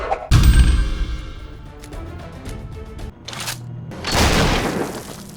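A shotgun blast from a first-person shooter game, a sharp loud boom near the start followed by scattered softer impacts and a second burst of noise later, flat and stock-sounding.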